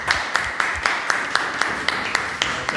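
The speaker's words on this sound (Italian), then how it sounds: "Applauso, ragazzi." A small group claps in a quick, steady rhythm of sharp individual hits, close and moderately loud, with faint voices underneath.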